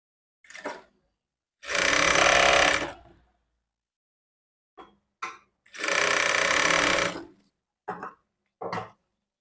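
A sewing machine stitching a blouse runs in two loud, close bursts of rapid mechanical whirring, each about a second long, with short clicks and handling noises between them.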